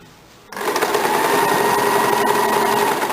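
A sewing machine double-stitches a blouse seam, starting abruptly after a short quiet moment and then running loud, fast and continuous at close range.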